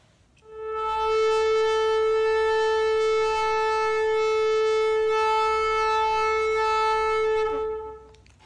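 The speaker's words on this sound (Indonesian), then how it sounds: "Nah, seperti itu suara sangkakala." A single long, steady shofar blast with a rich, buzzing tone holds loud and unbroken for about seven seconds, then drops off abruptly.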